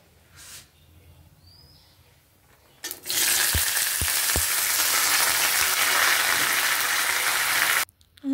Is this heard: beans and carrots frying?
yes